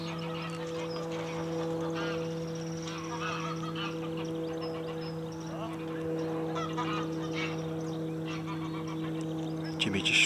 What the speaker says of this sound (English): I've got noisy geese.